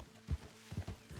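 Horse hooves in a video game clop in a quick uneven rhythm, several soft thuds over about a second, quiet and close with no talking.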